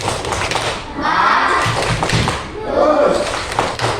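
A classroom group of students claps together in a short burst of hand taps and thuds, close and fairly loud, with children's voices mixed in around the clapping.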